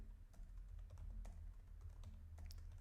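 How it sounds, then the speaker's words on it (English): Someone types on a computer keyboard while writing Dart code, producing close, quiet, irregular key clicks in short bursts over a low steady hum, with no talking. "Then I have to type the name right, and let's press run."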